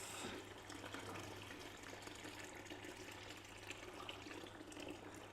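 Water pours steadily over saturated coffee grounds for cold brew, a continuous soft gush that stays even and faint throughout with no talking.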